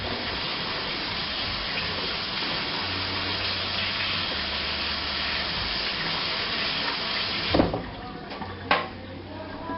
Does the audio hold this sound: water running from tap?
yes